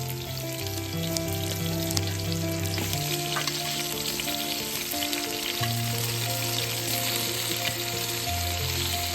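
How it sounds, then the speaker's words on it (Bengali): Mango chutney with the peels left on sizzles and fries steadily in a pan as it is stirred, a continuous close crackle with faint scraping and no talking. "একটু নাড়িয়ে দিচ্ছি।"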